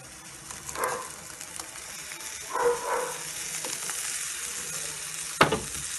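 Seared meat frying with blended tomato sizzles softly in a pot as it is stirred, with a few scraping swells and one sharp knock near the end.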